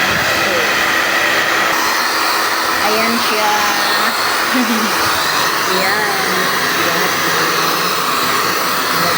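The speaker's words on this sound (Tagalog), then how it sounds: "Nag-blower ko po siya." Blower drying a dog's hair after a shower, a loud, continuous airy whoosh running throughout, with a person talking over it.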